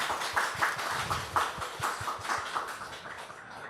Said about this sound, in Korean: 여러분 다시 한번 격려의 박수 부탁드립니다